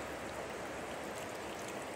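The Middle Fork Smith River in California, swollen after days of rain, flows in a steady, soft rushing hiss of moving water with no voices, constant and even throughout.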